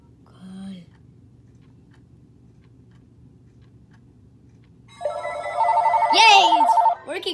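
A telephone rings loudly after a long quiet stretch, its repeated electronic ring tone filling the final seconds, with a brief voice-like sound near the start.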